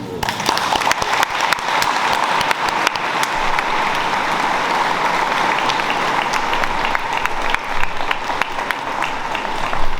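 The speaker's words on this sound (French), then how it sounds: "je propose qu'on les applaudisse" An audience claps for newly graduated gendarmes at a gendarmerie promotion ceremony, sustained, moderately loud applause with some sharper individual claps over a constant hall murmur.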